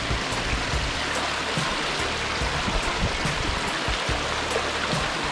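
A hidden river in the hills of Jamaica rushes and babbles steadily, a dense, close hiss of flowing water that runs on without a break.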